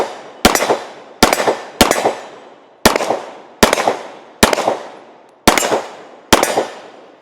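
Eight sharp, loud pistol shots from a Glock 47 fitted with a compensator, fired one-handed at a steady, unhurried pace with each report ringing out briefly before the next.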